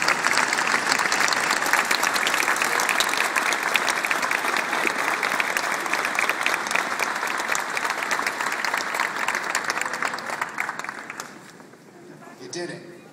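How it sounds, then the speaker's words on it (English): Sustained applause from an audience at an admissions presentation, cheering accepted students as they stand; dense, steady clapping for about eleven seconds before tapering off, with a bit of voice at the end. "Let's give them a round of applause."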